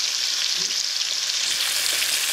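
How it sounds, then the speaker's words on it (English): Steady, close crackling sizzle of marinated mullet pieces frying in hot oil, continuous and fairly loud throughout. "I'm frying the marinated pieces of fish"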